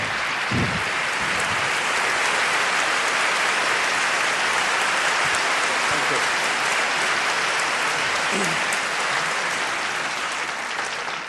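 A dense, loud wash of applause fills the whole stretch without pause, broad and hiss-like, heard during a movie discussion of The French Connection.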